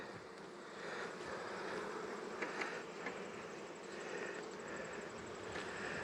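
Steady, dense buzzing of many bees swarming close around an open hive, with a yellow jacket nearby, continuous for the whole stretch with no talking.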